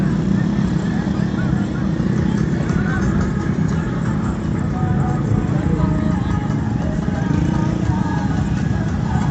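Horse hooves clip-clopping on a Karachi beach among a busy outdoor crowd, a continuous loud wash of noise with people talking and calling throughout.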